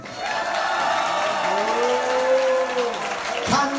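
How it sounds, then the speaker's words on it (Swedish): Audience applause at a casual couples' event, a steady wash of clapping from a small crowd, with a voice and a brief sliding tone mixed in near the end. "Applåder ni nu!"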